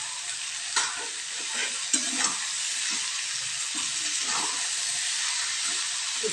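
Ridge gourd sizzles and hisses steadily in a hot pan while a spatula stirs it, scraping knocks rising above the constant loud frying.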